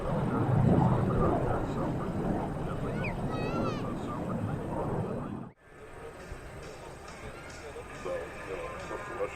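An F-100 Super Sabre jet roars past at an air show, a loud sustained rushing drone that cuts off abruptly midway, leaving a quieter distant rumble with faint background sounds.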